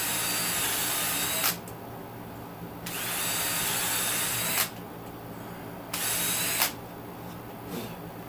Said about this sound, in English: I'm going to go ahead and use this to pilot the rest of my hole